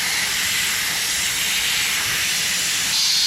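Steady, loud hiss of compressed air escaping from the airbrake parking valve on an International 4900 truck, continuous and close with no pause.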